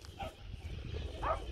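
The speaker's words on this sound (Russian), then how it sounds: "собака на них гавкает" A dog barks once or twice in the distance at seagulls on a Kuyalnik sanatorium beach, over steady outdoor wind and ambient noise.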